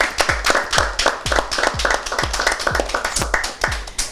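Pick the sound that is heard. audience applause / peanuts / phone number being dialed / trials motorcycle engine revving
audience applause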